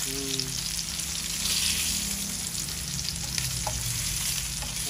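Pangas fish frying in oil in a kadai gives off a dense, continuous sizzle that stays loud and even throughout, heard up close with no talking.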